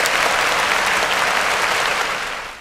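An audience at a Tamil New Year special debate show breaks into loud, dense applause that holds steady, then begins to fade at the end.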